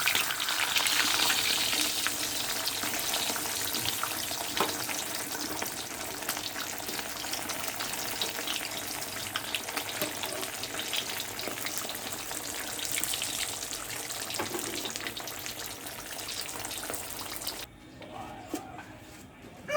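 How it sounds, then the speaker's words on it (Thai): Fish frying in hot oil at a Thai home lunch, a loud steady crackling sizzle that runs unbroken for most of the clip and cuts out near the end. "ทอดปลาห้อนๆจ้ะ"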